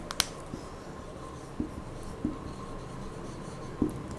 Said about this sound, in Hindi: तो यहां पे लिख लेते हैं अजयस गुडविल।